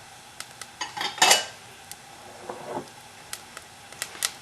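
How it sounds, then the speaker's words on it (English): Brown rice toasting in a hot pot gives off scattered small pops and crackles, with a louder cluster of clinks and scrapes early on and sparse, faint ticks afterward. "I can hear the brown rice popping"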